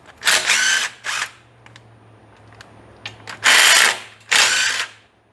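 Oil pan bolts come loose on a Fairmont under a power tool, heard as four short, loud whirring bursts close by, separated by quiet gaps with faint clicks and a low hum.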